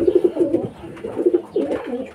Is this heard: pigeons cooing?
yes